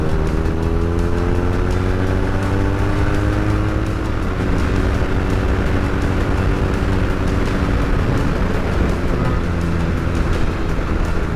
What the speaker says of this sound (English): when given the chance, I can do a little bit of overtaking